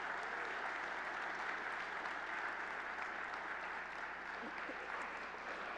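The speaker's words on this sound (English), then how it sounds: "one more round of applause for all our student speakers." Audience applause for student speakers at a university accepted students day, a steady, dense wash of clapping from a large crowd that holds evenly throughout without pause.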